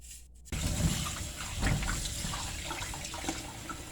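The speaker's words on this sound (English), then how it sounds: "I'm just rinsing the cocoyams" Peeled cocoyams being rinsed under running water, a steady splashing and trickling stream that comes in sharply after a brief quiet start, with sloshing pulses as the pieces are moved about.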